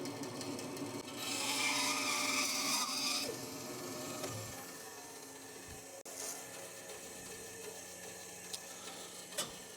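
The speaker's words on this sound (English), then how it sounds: "I can use the bandsaw to get this lobbed off." A bandsaw cuts through a piece of cedar in a woodturning shop, a loud rasping whine as the blade bites for a couple of seconds, then lower motor hum and clunks as the wood is handled.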